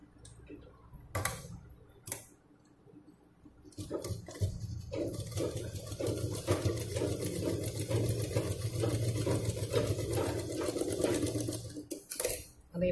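Sewing machine stitching fabric in quick rhythmic bursts, starting with short stabs and then a sustained run of rapid ticking, close and moderately quiet.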